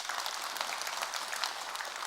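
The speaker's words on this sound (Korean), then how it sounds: "박수 한번 치세요." An audience at a Buddhist Sunday dharma service at a Korean temple claps in a soft, dense patter, fairly faint and distant, sustained without pause and without voices.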